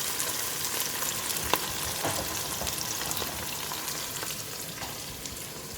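Ground onions, two of them, frying in a pot with meat as the base for biryani, giving a steady close sizzle and crackle with a few sharper pops and faint stirring scrapes, no voices.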